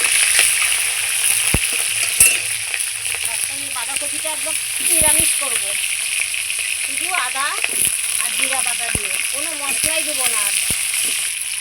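Panch phoron tempering sizzles in hot oil, a constant bright crackling hiss that runs the whole time while a person talks over it intermittently.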